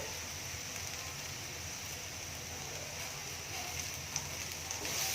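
Curry leaves sizzle in hot oil in a pan while egg thokku is being cooked, giving a steady, close crackling hiss that runs the whole time with a few small pops near the end.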